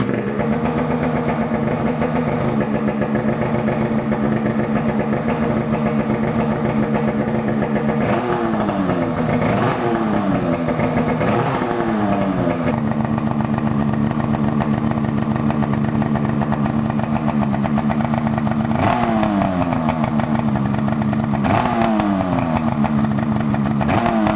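A Polaris Matryx Boost snowmobile engine fitted with an RPM titanium exhaust runs steadily and loudly up close, idling with a constant drone broken by several quick throttle blips around the middle and near the end.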